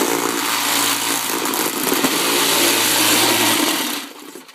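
A homemade tumbler tub running for stone washing fabric: a loud, continuous motor drone with a rattling churn holds steady for about four seconds, then cuts off as it winds down.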